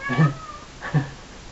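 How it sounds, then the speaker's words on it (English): A cat meows twice, loud and close, each call drawn out with a short gap between them and no other sound around. "what you heard was a cat"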